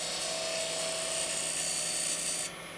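Steady broadband hiss of a wood-lathe chisel cutting a cove into a spinning wood blank, continuous and fairly loud with a faint tonal whine, easing off just before the end.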